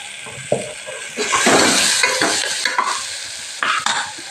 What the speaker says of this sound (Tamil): இஞ்சி பூண்டு பேஸ்ட்டு பச்சை வாசம் போகிற வரைக்கும் செஞ்சுக்குவேன்